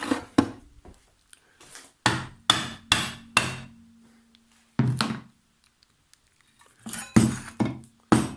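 Sharp metallic hammer blows ring out in irregular bursts, several quick strikes at a time with pauses between, close and loud.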